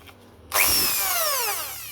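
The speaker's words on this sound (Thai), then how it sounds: "เริ่มจากเจาะก่อน" A power drill spins up sharply and bores a hole to take a stainless steel spring thread insert, a loud, steady high whine with a grinding bite, close by and with no talk.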